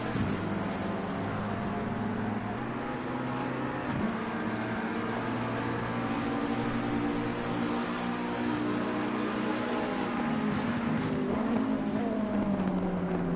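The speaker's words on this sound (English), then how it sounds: "Sounds like a Ferrari." Ferrari race car engine in the Assetto Corsa Competizione racing game at Silverstone, a steady sustained drone mixed with other cars in lap traffic, with a rising pitch sweep near the end, no talk.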